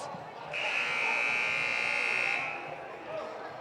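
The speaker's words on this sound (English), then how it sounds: "there's the buzzer" A loud, steady electronic buzzer sounds for about two seconds, then cuts off, over a noisy indoor crowd at a girls' high school basketball game.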